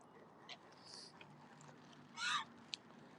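Ducks and other waterbirds at a lake while being fed, giving a few faint scattered calls and one louder burst of quacking, with quiet outdoor background and soft voices nearby.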